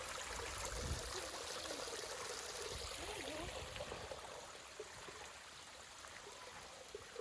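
Water flows from a mountain spring near the village of Mykulychyn in the Carpathians, a faint steady trickle and gurgle running continuously, close by and slowly quieting.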